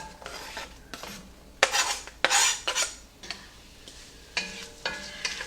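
Chopped onion sizzles in a tablespoon of oil in a large skillet, close by, with repeated scraping and clattering of a utensil stirring against the pan in uneven bursts and no talking.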